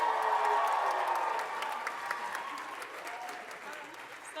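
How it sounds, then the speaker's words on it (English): Concert audience applauding a choir, a dense patter of clapping that starts strong and gradually thins and softens. "One more round of applause for the choir"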